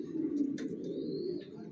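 Healthy racer pigeon cooing in a low, throaty rolling tone, near and clear, with a few faint higher chirps over it.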